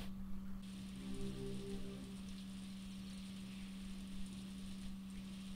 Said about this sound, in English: And it started raining, from snow to rain.